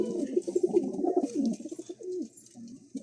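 Lakhori pigeons, high flyer birds, give repeated low cooing calls close by, a steady run of throaty rolling coos with no talk over them.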